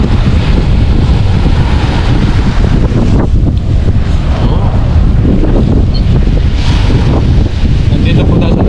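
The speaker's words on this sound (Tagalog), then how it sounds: "Kasi sa labas mahangin." Strong wind buffets the microphone outdoors by the sea in Taiwan, a steady low roar with gusts, with faint voices underneath.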